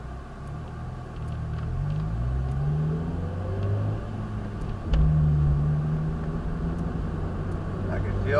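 A car's engine rumbles and rises as it accelerates, a low continuous drone heard from inside the vehicle with a surge partway through, while someone talks over it.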